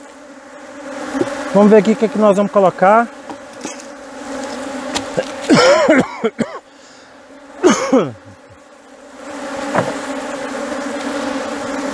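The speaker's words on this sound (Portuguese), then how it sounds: "Muita abelha aí, ó." Honeybees swarm around a strong hive during honey season while a beekeeper adds supers. A close, steady drone hums throughout, and someone talks over it.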